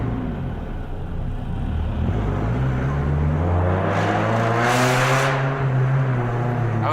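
A loud car engine drones and rises while driving at a college car meet, with a rumbling note that swells to a harsh peak midway before settling, heard close and continuous.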